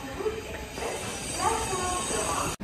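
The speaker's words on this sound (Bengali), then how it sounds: "ট্রেন ঢুকে গেছে।" Train pulling into platform 3 at a station, a steady rumbling roar with hissing and faint metallic squeal throughout, sounding close.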